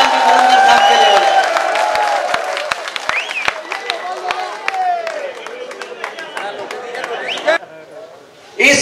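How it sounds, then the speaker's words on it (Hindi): Audience at a Hindi kavi sammelan poetry gathering clapping and cheering for a guest, a loud burst of applause that thins into scattered claps and voices, then fades. "एक बार पूरा जोरदार तालियां गोपाल जी धुरंधर साहब के लिए"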